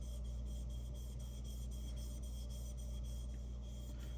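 A Japanese Santoku knife is sharpened on a Nusantara natural whetstone, giving quiet, rhythmic rubbing strokes of steel across stone, repeating steadily over a faint background hum.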